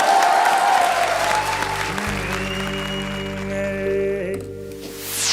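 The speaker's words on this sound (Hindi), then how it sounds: "जरा जोरदार तालियां जरा" Audience applause at a Hindi comedy or entertainment show, a dense burst of clapping that opens loud and thins out as a low musical drone and tones rise underneath.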